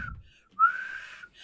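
A person whistles a short rising-then-held note, one clear tone lasting about half a second, close and alone after a brief earlier chirp.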